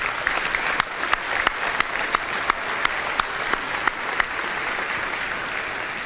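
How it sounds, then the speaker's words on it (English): Families are applauded by the crowd at the John Jay 2024 graduation ceremony, sustained even clapping at moderate volume with a few sharper individual claps standing out near the microphone throughout. "Let's have a round of applause for our families."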